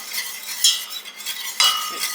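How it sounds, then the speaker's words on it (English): A whisk stirs homemade Alfredo sauce in a pot on the stove, making soft scraping swishes with two sharper metallic clinks against the pot, close and alone with no talk. "Just going to whisk it around, bring it to a boil."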